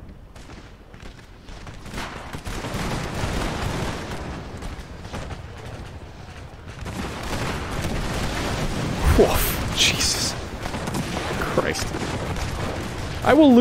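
Musket volleys and cannon fire rumble through a Napoleon: Total War battle, a dense, continuous stretch of overlapping distant gunfire and booms with sharper blasts near the end.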